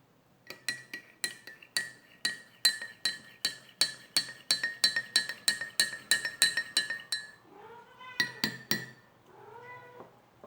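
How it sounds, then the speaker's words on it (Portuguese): A spoon stirring water, oil and detergent in a glass gives a rapid, steady run of bright clinks for about seven seconds, followed by a few squeaky, meow-like rising cries. "Com a água e o óleo no copo, vou adicionar o detergente e mexer a mistura"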